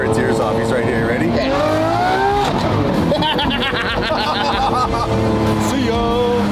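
A Lamborghini SVJ supercar engine revs hard and loud, its pitch climbing and falling in repeated sweeps, close by and continuous throughout, with talking mixed in.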